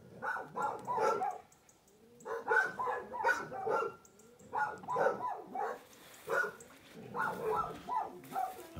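A dog barks repeatedly in short clustered bursts, several quick barks per group with brief pauses between, fairly close and moderately loud, in an outdoor shed area during sheep work.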